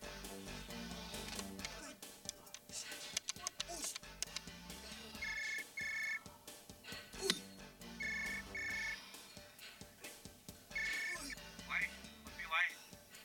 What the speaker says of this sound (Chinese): 喂 ，Eddie 啊，电话